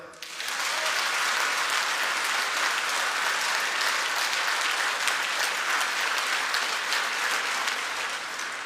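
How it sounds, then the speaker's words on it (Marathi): A large crowd at a political rally for local elections applauding loudly, a dense, steady roar of clapping that starts abruptly and continues unbroken for several seconds. "आपण सगळ्यांनी हात वरती करा जोरदार टाळे वाजवा"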